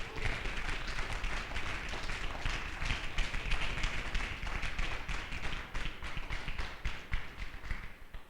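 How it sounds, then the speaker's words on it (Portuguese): A church audience claps steadily in praise of Jesus, many hands making dense, continuous applause that fills the room and tapers slightly at the end, with no talk over it. "Palmas para Jesus"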